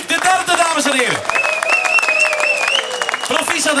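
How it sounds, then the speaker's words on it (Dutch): A crowd at a Heusden men's cycling race ceremony claps for the third-placed rider, with the applause running beneath a loud announcer's voice over the PA. "Uw welverdiende applaus voor Axel van der Tuk, de derde, dames en heren."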